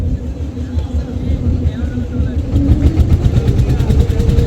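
A trawler boat's engine chugs loudly and close by as the boat sets off toward Dhal Char, with a low steady rumble that turns more pulsing as it gets under way.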